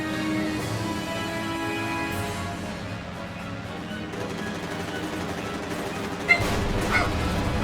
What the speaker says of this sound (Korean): 방송하는데 강아지 짖고 그러냐.